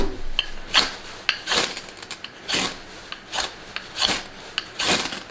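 Schrade SCHF56LM Frontier knife, a quarter-inch-thick coated steel blade, scraping along a ferro rod in repeated rasping strokes, about eight loud close scrapes in an uneven rhythm.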